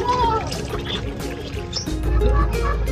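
Something is washed by hand in water, with splashing and pouring close by and voices talking over it.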